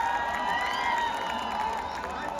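A big outdoor crowd at a film trailer launch event on a Patna ground gives a continuous wash of cheering and applause, with shouting voices and a steady high tone over the top.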